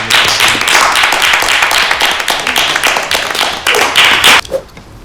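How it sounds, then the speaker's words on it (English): A small group on a podcast gives themselves a round of applause, the close, loud clapping of a few pairs of hands lasting several seconds before tapering off abruptly. "So give yourself a round of applause"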